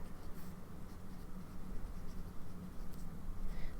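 Lamy AL-Star fountain pen in Black Purple with a fine nib scratching across paper, a continuous close, quiet scratchy writing sound with no talking.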